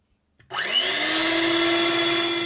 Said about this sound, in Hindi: इसको भी हम बीट कर लेंगे मिक्सर की मदद से